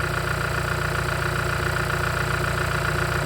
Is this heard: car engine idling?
yes